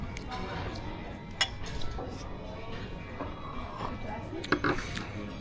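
Champagne glasses clink in a toast, several light, brief chimes under a murmur of talk and background clatter of cutlery and dishes.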